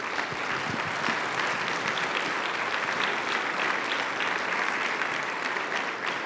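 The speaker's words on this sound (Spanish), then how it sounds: "Denle un aplauso al Rey de Reyes." A congregation at a Sunday sermon claps loudly and continuously, a dense, even wash of applause that holds at full strength throughout without a break.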